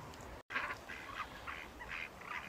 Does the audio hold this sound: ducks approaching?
yes